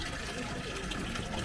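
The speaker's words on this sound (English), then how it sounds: "Take the water, this is fully saturated brine." Fully saturated salt brine gushes and splashes as it is poured in a brief, dense burst at close range.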